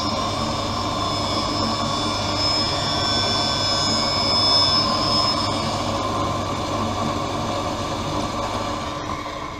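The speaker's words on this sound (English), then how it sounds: "Out comes the arm with the safety bevel wheel. It's applying the safety bevel to the concave back surface, rear surface of the lens." A lens edger applies a safety bevel to the concave rear surface of a prescription sunglass lens for a Versace 4265 frame, giving a steady, loud mechanical whir and grinding drone that holds throughout without speech.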